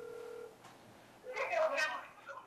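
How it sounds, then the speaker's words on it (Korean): A phone call is placed during a Korean radio broadcast, with a short steady tone followed by a burst of bright dialing and connection tones, while faint studio voices murmur underneath. "제가 전화 연결을 지금 해보도록 하겠습니다"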